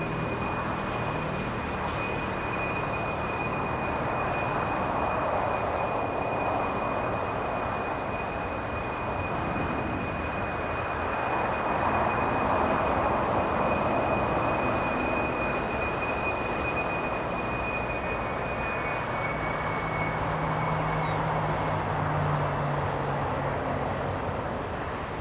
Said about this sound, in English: if you enjoyed the sounds of that 777 as it makes the left turn on taxiway Bravo